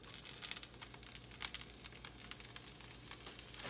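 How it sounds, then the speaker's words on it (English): Chopped kale sizzles in hot oil in a pan for a vegan frittata, a dense, steady crackle and hiss with sharp pops scattered throughout and no voices. "Yep, oil's nice and hot, it's sizzling."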